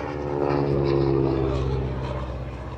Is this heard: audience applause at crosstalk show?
no